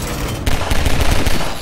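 Rapid video game gunfire crackles in a dense, sustained burst of repeated shots, loud and close, with no talk over it.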